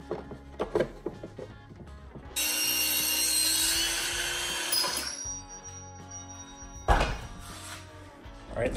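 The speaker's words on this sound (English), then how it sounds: "that was just me using the little handheld circular saw to take this little block of pine and trim it a little bit" A small handheld circular saw trims a little block of pine in a workshop, with a few light knocks first, then a bright whining cut of about two and a half seconds, followed by quieter handling sounds and a brief burst.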